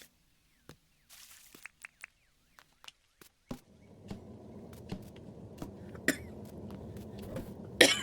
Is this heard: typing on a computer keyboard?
no